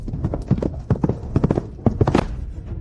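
Horse hooves clip-clop in a quick, uneven rhythm of repeated sharp strikes, fairly close and loud, with no speech over them.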